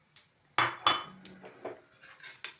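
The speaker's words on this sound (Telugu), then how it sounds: "మంచి గోధుమ రంగు వచ్చే వరకు వేయించుకోవాలి." Semolina roasts in a pan with curry leaves while a spoon stirs it, giving a few sharp metallic clinks and scrapes at an uneven pace, close and fairly quiet.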